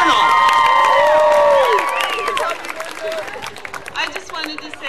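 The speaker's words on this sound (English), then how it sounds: "Please give another huge round of applause for Melinda Brown" A crowd at a Best Buddies flash mob event in Las Vegas cheers and applauds loudly, with shouts and whistles over clapping that fades somewhat after a couple of seconds.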